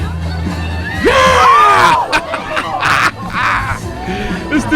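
Crowd at a Nashville wrestling show cheering and screaming, a loud sustained roar with whoops and yells rising and falling, overlaid by voices shouting nearby.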